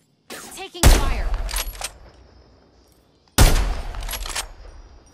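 Gunfire in Apex Legends: two loud, sharp bursts of shots about two and a half seconds apart, each trailing off into a decaying echo, with a brief voice just before the first.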